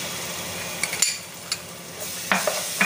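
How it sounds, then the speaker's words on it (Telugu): Onions frying in a pan with ginger-garlic paste for a home-style fish curry, a steady sizzle broken by a few spoon stirs and light clinks against the pot. "ఉల్లిపాయలు ఇలా వేగాలండి అంటే ఈవెన్గా అండి కొంచెం అల్లం వెల్లుల్లి పేస్ట్ కూడా వేస్తున్నాను"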